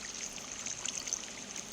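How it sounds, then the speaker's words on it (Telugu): Water pouring from a bucket in the video game Minecraft, a steady hissy trickle with faint bubbling flecks, fairly quiet and continuous throughout with no talking. "వాటర్ బకెట్ యూజ్ చేయడానికి అవుతుంది."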